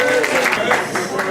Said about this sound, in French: Mesdames et messieurs, sous vos applaudissements, Serge Martial.